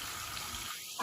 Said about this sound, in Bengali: এদিকে আলুটা ধুয়ে নেবো এবার